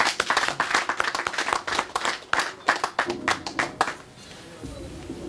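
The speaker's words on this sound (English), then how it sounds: "I think you deserve a round of applause." An audience at a startup program closing ceremony applauds, a dense run of loud, close hand claps that tapers off after about four seconds into room noise.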